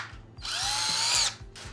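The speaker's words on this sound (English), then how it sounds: "and run the drill" A power drill spinning a duct-cleaning brush inside a dryer vent whirs up to a steady high whine for about a second, then winds down, with a faint rhythmic knocking underneath.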